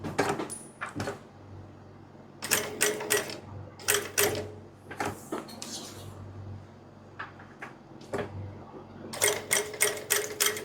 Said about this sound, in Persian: از بیخ نوار مغزی شروع میکنید به دوختن